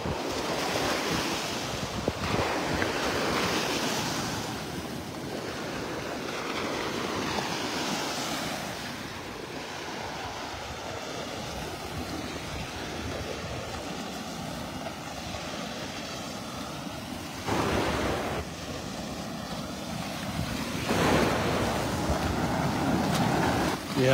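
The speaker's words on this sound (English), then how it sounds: "those waves are definitely picking up" Ocean waves break and wash onto a beach in North Naples, Florida, a steady rolling surf with wind, swelling louder in surges toward the end.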